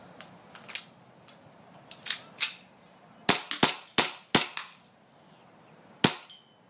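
A WE 1911 MEU airsoft gas blowback pistol fires about a dozen sharp, snappy cracks in irregular groups, close and loud, until the slide locks back on an empty magazine.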